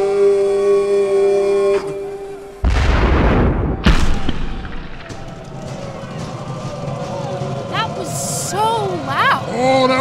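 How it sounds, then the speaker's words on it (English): Large cannon fired as a tradition, one sudden heavy boom followed by a second sharp blast and then lingering ringing tones, with voices nearby. "That is a huge cannon."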